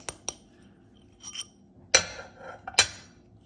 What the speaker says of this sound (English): just hammer it, make sure it's nicely hammered together